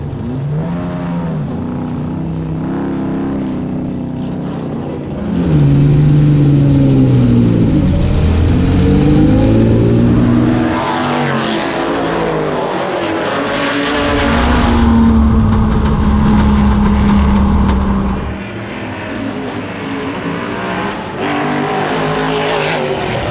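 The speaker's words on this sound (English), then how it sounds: "Replay here of number 4 E-type getting so sideways" A number 4 Jaguar E-type races at Goodwood, going sideways. Its loud engine roars and revs continuously, with rising and falling pitch as other race cars pass close by.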